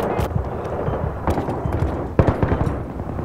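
Explosive blasts from grenades in a Battlefield 3 multiplayer match, a few sharp booms, the loudest near the end, over continuous game noise and gunfire-like bursts.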